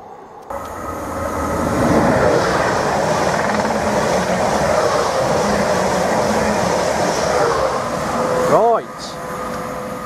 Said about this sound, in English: Our 745 FLIRT unit on its way to London.